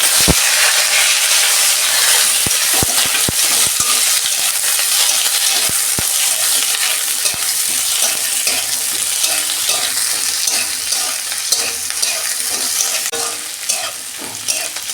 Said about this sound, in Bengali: এইগুলো আমি তেলের মধ্যে ভেজে নেব।